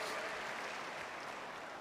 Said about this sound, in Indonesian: tepuk tangan lu buat UNER